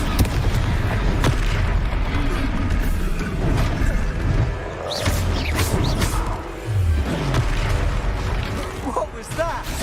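A Confringo fire spell blasts in Hogwarts Legacy amid a loud, continuous battle mix of booms and pops, with voices talking over the combat throughout.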